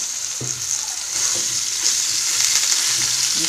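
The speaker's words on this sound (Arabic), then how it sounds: "نسمع يفرمو الزيت كيما بحال هكا" Oil crackles and fizzes in a pan, a bright continuous frying hiss that grows slightly louder partway through, close by, with a few soft knocks underneath and no talking.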